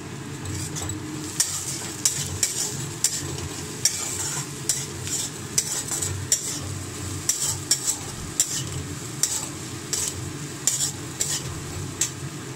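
Egg chowmein noodles sizzle steadily in a pan while a metal utensil stirs and scrapes them, producing regular clinks and scrapes against the sizzle.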